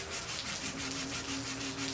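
Soft, steady rubbing of sandpaper scraping back and forth over metal by hand, on a Chrysler 4.7 engine exhaust manifold job, in quick repeated strokes, fairly quiet and close.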